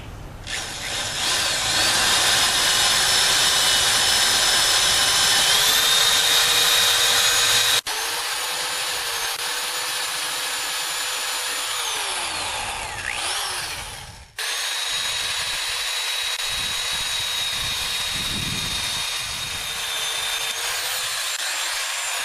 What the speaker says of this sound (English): Make sure your drill bit is big enough to drill out.